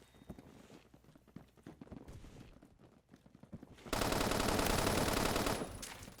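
A PDW hip-fired in Roblox's Phantom Forces: scattered gunshots and footstep-like taps give way to a loud, sustained burst of rapid automatic fire that ends near the finish.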